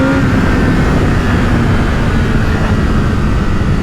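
A Honda CBR1000RR Fireblade SC59 motorcycle accelerating on a road in second gear, a loud, continuous engine roar mixed with wind rush, steady and close throughout with no talk.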